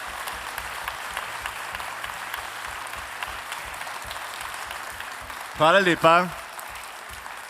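Applause for an award recipient at a Slovenian education awards ceremony, steady clapping throughout, with a short spoken thanks near the end.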